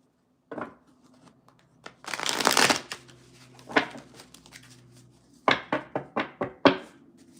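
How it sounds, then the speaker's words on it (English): Tarot cards being shuffled and pulled by hand, giving bursts of riffling and soft slaps with taps and knocks on a surface, close and fairly quiet, with no talk. "sometimes when I'm shuffling the cards and I'm pulling a card out"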